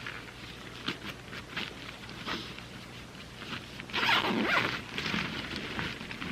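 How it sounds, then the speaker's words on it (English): A zipper on a Canvas Cutter Summit canvas tent is being unzipped in a series of rasping pulls, with one louder, longer stretch partway through, close up with no talk. "You can zip this back off here."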